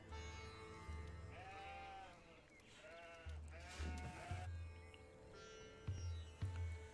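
Sheep bleat in the Age of Empires IV strategy game, several wavering, quiet calls in a row over low, rumbling game ambience.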